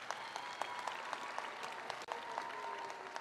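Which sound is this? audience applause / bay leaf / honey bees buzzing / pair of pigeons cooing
audience applause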